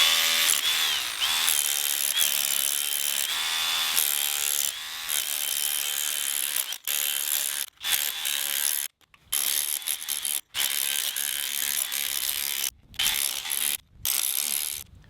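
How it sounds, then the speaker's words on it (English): A hammer drill busts up concrete on a job site, its loud continuous rattling hammering running almost nonstop with a few brief pauses as the bit is lifted. "I'm gonna clean it up with that hammer drill."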